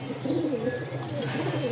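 Rajshahi Giribaz pigeons, many kept together, give a close, wavering throaty coo that rises and falls in steady low warbles, with some faint chirping in the background.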